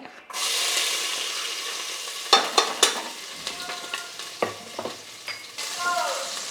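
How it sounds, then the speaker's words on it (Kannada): Crushed garlic dropped into hot oil for a tempering, bursting into a loud, close hiss that settles into steady sizzling broken by sharp crackles and a few stirring clinks, with no talking. "ಒಗ್ಗರಣೆಗೆ ಬೆಳ್ಳುಳ್ಳಿ ಹಾಕೋತಾ ಇದ್ದೀನಿ"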